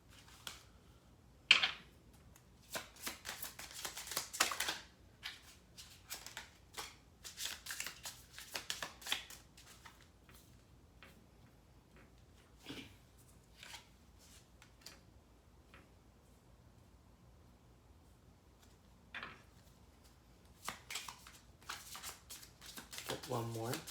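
Tarot cards are shuffled in repeated soft, riffling bursts, close to the listener, with quieter gaps and light taps between them.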